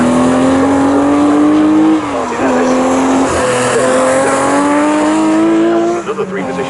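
Race cars at Snetterton, including a bright yellow Porsche and an Astra GTE, roar past in a Future Classics race with a loud sustained engine note, shifting pitch and tyre squeal, while a commentator talks over them.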